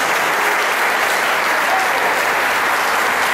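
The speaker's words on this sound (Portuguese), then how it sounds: "Uma salva de palmas para o Senhor Jesus, porque Ele merece." A church congregation at a Portuguese-language service breaks into loud, dense applause, an even, sustained roar of clapping that fills the whole stretch.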